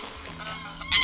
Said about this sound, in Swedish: Galna gäss som flyger runt här.